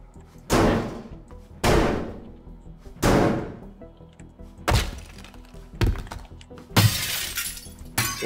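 Glass is smashed and broken in the video game Teardown: six loud, separate crashes, each a sharp impact followed by a shattering tail, spaced about a second or more apart with quiet gaps between.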